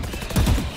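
Burst of gunfire in GTA V, a short rapid volley of loud, close shots lasting under a second with no talking over it.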